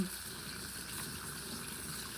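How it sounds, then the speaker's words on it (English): Steady running water gushes continuously while pork meat is rinsed with salt and water, close and fairly constant, with no talking. "So I'm just washing with some salt"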